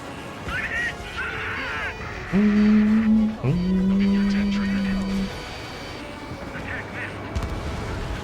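Ace Combat 7 jet combat with a missile launched and then striking its target, giving two sharp swooping bursts that sustain before fading under the roar of the aircraft, with a radio voice speaking briefly.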